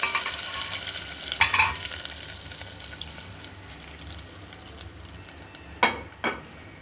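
Steady hot-oil sizzle crackles throughout, with a few sharper bursts of spattering as tempering spices hit the pan for spinach dal, no voices.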